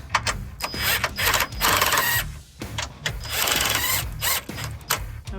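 Mechanical ratcheting and tool whirring while snugging sway bar bushing bolts on a Ford Econoline E-250 van, steady and busy throughout with short gaps, fairly close and loud.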